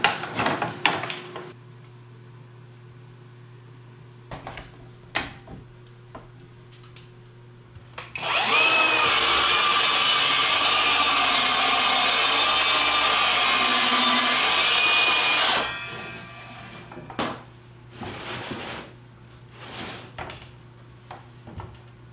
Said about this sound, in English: Big fan of the cordless track saw.